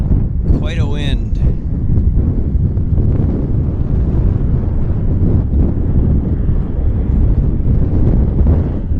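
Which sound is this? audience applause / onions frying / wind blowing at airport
wind blowing at airport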